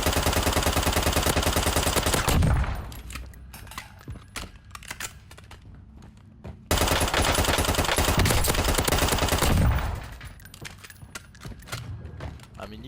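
Hemlock CQB battle rifle at max damage in a video game, two long bursts of rapid gunfire separated by a few seconds of quieter pause, loud and close, with no talking.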